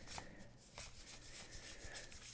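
Trading cards are shuffled by hand in quick, soft, repeated rubbing and flicking strokes, very faint and close.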